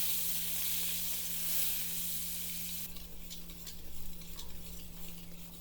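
Two tablespoons of butter melt in a pan for gravy, giving a steady broadband sizzle that drops sharply partway through to a quieter crackle with a few scraping stirs.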